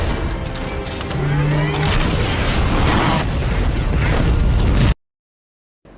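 The Ten Rings base explodes in the Iron Man film as a loud, sustained rumbling blast with crackling debris and a low boom, which cuts off abruptly to silence near the end.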